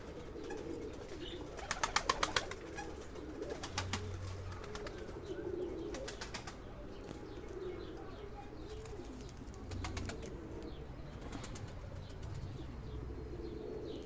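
Pigeons coo softly in the background while a couple of brief bursts of wing flapping rise up as a bird takes off.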